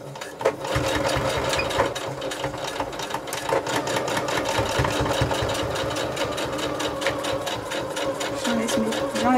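A sewing machine stitches a continuous seam around a fabric beach pouch, running at a steady rapid mechanical rhythm, close and clear, with no talking.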